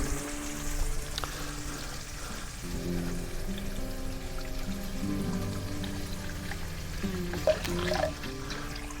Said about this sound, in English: I'm just going to tip the sauce in